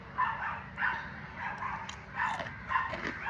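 A dog barks in a series of short yips and whimpering bow-wows at a steady, uneven rhythm, fairly close but not loud, with no one talking over it.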